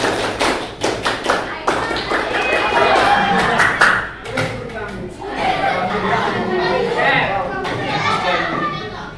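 A group of children performs the tepuk semangat clap, rapid sharp claps in rhythmic bursts at the start. Lively chatter and voices follow, and scattered taps and thumps sit under the talk.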